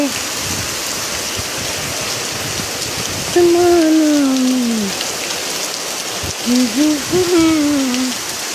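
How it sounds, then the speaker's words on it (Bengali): Heavy rain pours down in a dense, steady hiss on surfaces outdoors, with a few sliding, hoot-like tones rising over the downpour near the end. "বৃষ্টি হচ্ছে, আধ ঘন্টাও এখনো হয়নি।"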